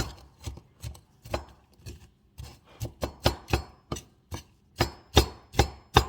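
Walnuts for a coffee cake being chopped with a knife on a cutting board, a series of sharp close knocks in an uneven rhythm that quickens toward the end.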